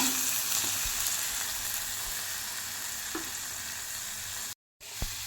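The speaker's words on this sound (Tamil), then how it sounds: "இப்போ வெங்காயம் நல்லாவே ஃப்ரை ஆகிடுச்சுங்க" Onions fry in a pan with turmeric, red chili and coriander powder, giving off a constant close sizzle with an occasional soft stir or tap. The sound breaks off briefly near the end.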